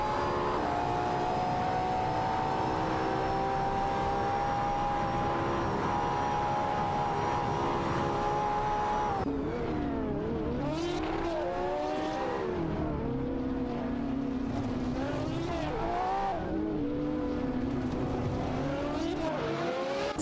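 Lamborghini Asturian and other race cars in an AI racing video game, a sustained engine whine that shifts partway through into several cars revving and changing gear in overlapping pitch sweeps.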